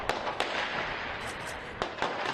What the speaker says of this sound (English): A burst of heavy gunfire followed.